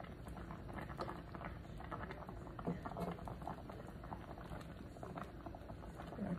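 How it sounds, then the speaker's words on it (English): Cut-up bacon sizzling on low heat in a pan, a faint, continuous crackling hiss with scattered tiny pops, close by and steady throughout, with no talking. "now I'm going to cut my bacon up and put it in here"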